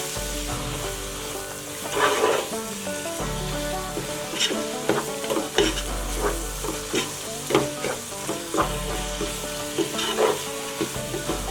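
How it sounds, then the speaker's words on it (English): Biryani masala being stirred into mushy vegetables in a pan for boneless chicken dum biryani, a steady scraping stir over continuous sizzling with repeated spoon strokes every second or so, close and fairly loud. "Give it a good mix."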